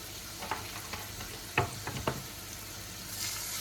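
Spice masala cooks in a pan with a splash of water for a fish-head, moong dal and ash-gourd dish, a faint soft sizzle under a few distinct spatula scrapes and taps.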